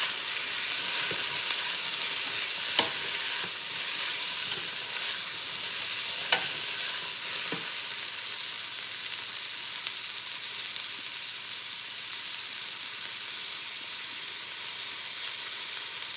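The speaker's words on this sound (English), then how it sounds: "I put those in with the onions. I stir them real good." Onions and diced red bell pepper sizzle steadily in a pot, with a few sharp scraping stirs in the first seconds before the frying hiss settles into an even, continuous sizzle.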